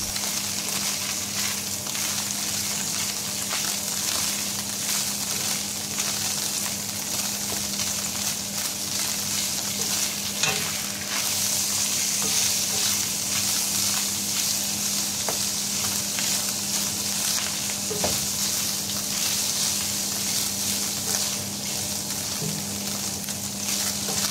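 Pork sisig frying and being stirred in a pan, a steady close sizzle with occasional scrapes and clinks of the utensil, continuous throughout without talk.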